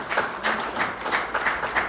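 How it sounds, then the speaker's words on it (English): An audience at a university lecture applauds steadily for about two seconds, a dense and even wash of many hands clapping with no voice over it. "I think I deserve an applause for that"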